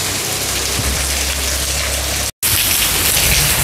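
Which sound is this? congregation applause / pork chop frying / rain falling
rain falling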